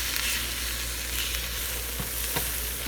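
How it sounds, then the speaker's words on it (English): A pat of butter sizzling in a hot frying pan, a dense even crackle that runs steadily throughout with a couple of faint clicks near the end, close and without voices. "I'm actually gonna add a little pat of butter. To the pan."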